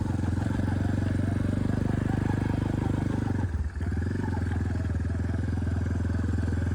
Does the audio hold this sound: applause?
no